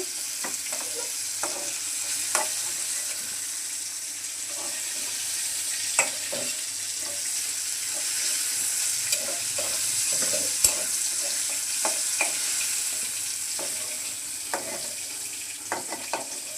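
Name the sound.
potato, pointed gourd and soybean chunks frying in a pan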